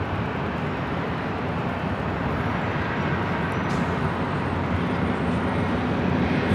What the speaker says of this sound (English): The flight in front of it is Delta Airlines Flight 413, heading to Minneapolis in a 737-900ER.